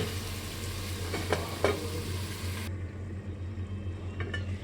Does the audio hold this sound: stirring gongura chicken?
yes